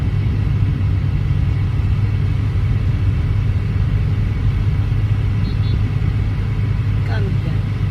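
Low, steady rumble inside a moving car, a constant road and engine drone throughout, with no speech.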